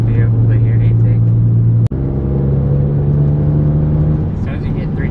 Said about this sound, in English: On the road cruising now with the new 9-inch intake and velocity stack upgrade.